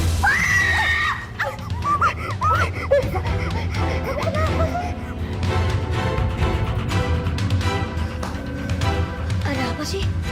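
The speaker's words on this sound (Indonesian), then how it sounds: "Tadi udah denger ada yang teriak-teriak." A person screams shrilly several times in a tense scene, the rising wails mixed with other voices and loud, dense background sound that keeps going throughout.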